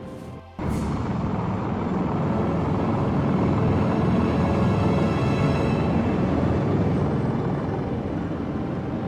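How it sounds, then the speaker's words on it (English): A helicopter flies overhead in the Lost Horizon 2 video game, a dense, loud rotor roar that starts abruptly after a brief pause and holds steady, with no voices. "Hey, do you hear that? Another helicopter."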